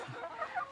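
A few soft, close clucks from chickens, short and quiet, with no one talking.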